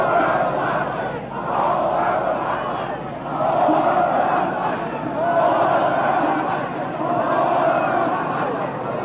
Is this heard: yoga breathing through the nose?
no